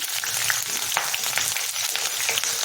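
Chopped garlic and green chillies frying in oil for a carrot pulao, a dense steady hiss and crackle filling the whole moment at close range.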